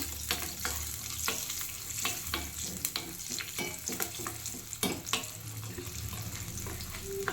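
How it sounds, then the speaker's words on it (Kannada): Urad dal fries in a pan for garlic chutney, a constant crackling sizzle peppered with frequent sharp spatula scrapes and pops, close and fairly loud. "ಆ ಬೇಳೆನ ಹಾಕ್ಬಿಟ್ಟು ಚೆನ್ನಾಗಿ ಇದನ್ನು ಫ್ರೈ ಮಾಡ್ಕೊಳ್ತಾ ಇದ್ದೀನಿ"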